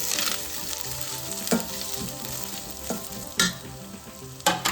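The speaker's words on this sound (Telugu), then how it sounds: "ఇప్పుడు ఆనియన్ వేద్దాం. కరివేపాకు బాగా ఫ్రై అవ్వాలండి." Onion and curry leaves fry in a pan for mutton curry, giving a constant close sizzle and crackle with a few sharp spatula scrapes and stirs at intervals, no voices.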